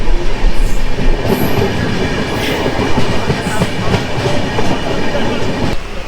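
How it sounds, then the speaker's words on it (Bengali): The Dibrugarh–Kanyakumari Vivek Express rumbles past loudly and close, wheels clattering rhythmically over the rails, with occasional metallic squeals above the steady roar. "একটু আগে যে ট্রেনটা গেল সেই ট্রেনটা হচ্ছে ডিব্রুগড় কন্যাকুমারী বিবেক এক্সপ্রেস"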